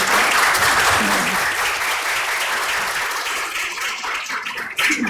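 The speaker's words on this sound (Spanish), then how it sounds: "Unas palmas para Claudia." Audience applause after a film screening with live musical accompaniment: sustained, dense clapping from a seated crowd for about five seconds, fairly loud and even, tapering slightly near the end.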